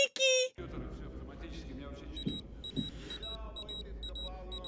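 A wristwatch in the movie Air Force One gives short, high, evenly spaced electronic beeps in a repeating pattern through the second half, faint under talk and ambient film sound after a brief loud burst at the start.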